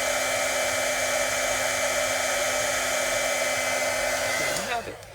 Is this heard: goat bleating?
no